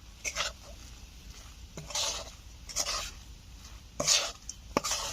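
A spoon works orange food colouring into a chana dal mixture, with several separate scraping and rubbing strokes at uneven intervals, quiet and close.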